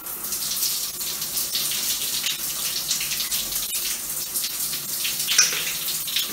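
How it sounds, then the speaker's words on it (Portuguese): Shower water runs steadily in a bathroom as part of a bathing ritual, a continuous broad hiss of spray with a faint splash near the end, no voices over it. "Se será pra deixar o chuveiro ligado, eu vou ligar."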